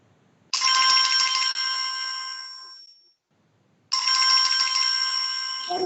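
A telephone rings in two long electronic bursts separated by a short silence, loud and close with no talk.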